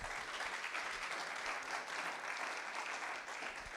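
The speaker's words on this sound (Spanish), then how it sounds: "Dale una ofrenda de palmas a Dios." Church congregation gives a sustained burst of applause, dense and even, filling the room for several seconds without a break, with no voices standing out.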